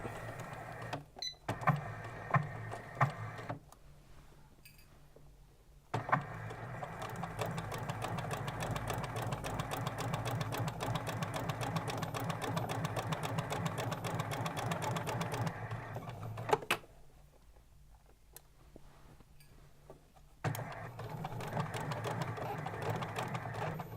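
A sewing machine stitches a garment sleeve in several close, rapid runs, with brief pauses and clicks between bursts.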